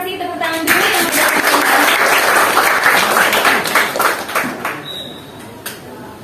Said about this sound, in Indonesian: terima kasih, tepuk tangan dulu